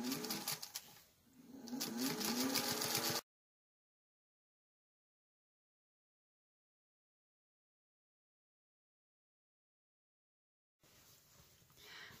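A sewing machine stitches around a point on a fabric placemat in a loud, quick burst, then goes silent for a long stretch before running again more quietly.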